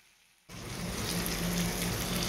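Chicken curry frying in oil in a home kitchen on an overcast day, a steady, close hiss that starts abruptly after a brief quiet moment and continues evenly without talk.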